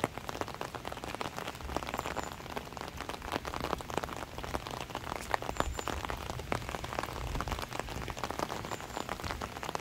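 Steady rain falls over a decorated village on Ganghwa Island, South Korea, a dense even patter of drops hitting surfaces, close and continuous with scattered sharper splashes and no voices.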